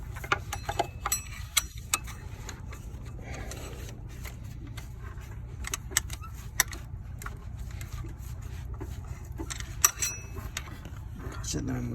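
The water pump pulley on a 2012 Ford Fusion 2.5L is turned by hand with a screwdriver during a pump replacement, giving close, irregular mechanical clicks, ticks and faint creaks over a low steady hum.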